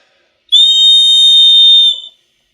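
One long, piercing blast from a loud portable 3D printed whistle, a steady shrill tone held for about a second and a half, then cut off, with silence before and after.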